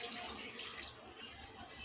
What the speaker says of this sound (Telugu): నీళ్ళు పోసుకుందామండి.